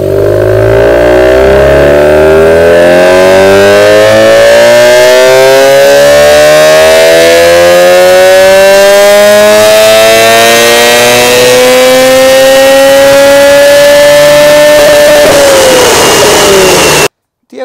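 Mazda RX-8 Cosmo rotary engine, freshly serviced, revving loudly and steadily climbing in pitch for about fifteen seconds, a smooth rising whine with a slight dip near the end before cutting off.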